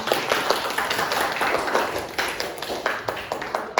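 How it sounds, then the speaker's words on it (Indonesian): A class in a school lesson claps for Nisa, a dense, lively round of applause from a group of students lasting a few seconds. "tepuk tangan untuk Nisa"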